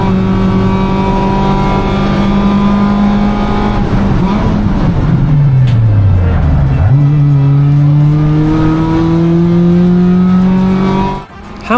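A Mazda 2 race car on a fast race track, its engine screaming loud and close at high revs, dipping through a downshift midway before climbing steadily again, then cutting off abruptly at the end.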